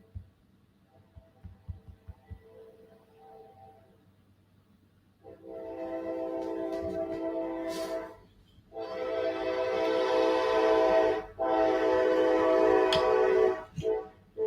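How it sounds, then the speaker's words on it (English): A nearby train passes and sounds its horn in loud, sustained blasts with short gaps between them. Before the horn, a quieter rumble of rail cars builds up. "I live by a train, guys, so that's what that is."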